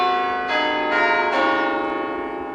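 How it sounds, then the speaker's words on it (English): Clock tower bells at a nearby church ring out in three clear, resonant strokes about half a second apart, each long ringing tone overlapping the next. "the constant sound of the clock tower bells at the"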